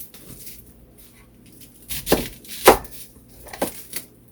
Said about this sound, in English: my onion, I like to cut it in half, and then half again